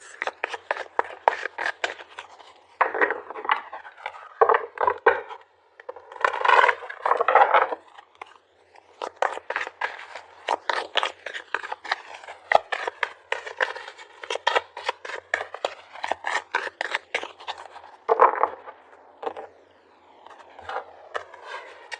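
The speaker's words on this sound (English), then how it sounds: "let's pull some more cards before I comment too much on that" Tarot cards are shuffled and drawn from the deck, giving bursts of papery riffling and soft scraping in an irregular rhythm, close and fairly quiet, with no talking.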